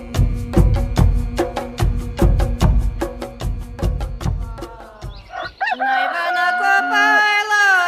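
A rooster crows and chickens cluck after a run of rapid, rhythmic thumping, with the birds close and loud.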